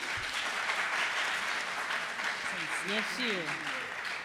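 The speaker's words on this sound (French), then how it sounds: "Je vous demande d'applaudir." A school quiz-show audience applauds steadily throughout, with the clapping continuing under someone speaking briefly partway through.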